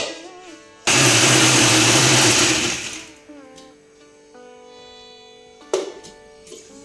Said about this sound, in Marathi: ते चपातीचे तुकडं मिक्सरमध्ये काढून घेऊया आपण